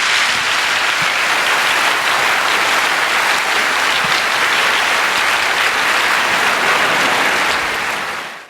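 Dense, loud audience applause at a design talk after a slow-moving robot demonstration, sustained evenly for about eight seconds before tapering off at the end.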